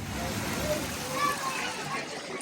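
Water jets at EPCOT's Journey of Water splash continuously into a shallow play area, a steady, close spattering wash heard beneath a person's speech.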